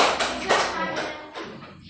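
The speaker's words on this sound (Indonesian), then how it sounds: "Kita tepuk tangan untuk Josna" Elementary school pupils clap for a classmate, giving a short burst of several sharp, uneven claps close by that fade within two seconds, with some voices mixed in.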